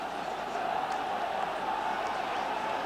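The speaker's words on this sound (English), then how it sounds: "that really has got the crowd buzzing now" A football crowd at an Everton versus Telford match in 1985 keeps up a steady, distant roar of massed voices, rising slightly without sharp peaks.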